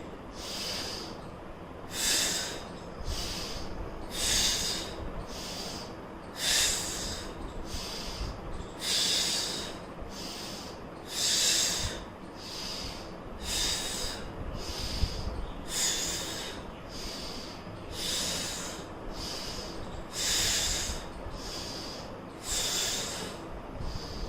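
Deep, forceful breathing during an exercise pose, a steady series of loud nasal exhales and inhales repeating about every second and a half, close to the mic with no talking.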